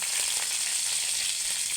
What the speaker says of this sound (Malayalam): കടുക് പൊട്ടി നമ്മൾ ഇച്ചിരി കരിയാപ്പിലോട് ഇട്ട് കൊടുക്കുകയാണ്.